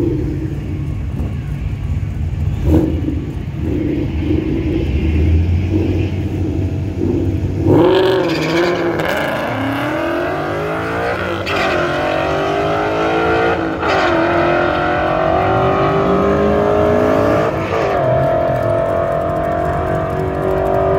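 A Ford Mustang and a sixth-generation Chevrolet Camaro launch side by side at a drag track, starting from a low idle rumble before engines scream up through rising revs with sharp gear changes, loud and close.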